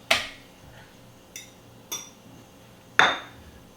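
A utensil clinks against a mixing bowl while half a cup of flour is gently folded into a ricotta mixture: four sharp, close clinks spaced unevenly, with quiet scraping between them.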